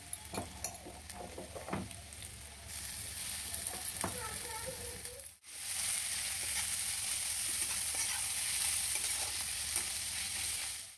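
Chopped onions sizzle in a hot pan after bay leaves go in, a steady close frying hiss with a few stirring clicks at first, then a louder, even sizzle.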